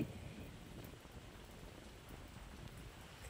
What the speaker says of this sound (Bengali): এই মুহূর্তে আমাদের এখানে এখন বৃষ্টি হচ্ছে।